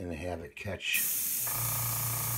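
Steady, hissing spray from an airbrush, starting right after a brief bit of talk and continuing evenly close by.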